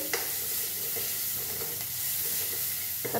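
Chopped onion sizzling in hot oil in a pan for green moong bean curry, a dense, loud, continuous hiss with a couple of brief stirring knocks, close up.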